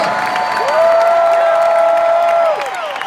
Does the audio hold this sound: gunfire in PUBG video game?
no